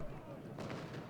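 Cannon artillery fire in the Civil War strategy game Ultimate General: Gettysburg, one muffled boom rolling out at low volume through a dense, rumbling battle din.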